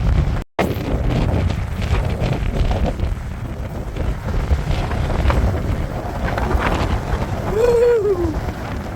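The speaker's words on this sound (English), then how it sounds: "Albuquerque is windy." Strong wind from a dust storm buffets the microphone in a park in Albuquerque, a loud continuous roar and rumble with gusts throughout and one brief dropout near the start.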